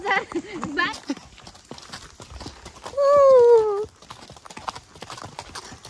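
A horse whinnies loudly for about a second amid hoof clops and background chatter of people nearby at a horse stand in Matheran.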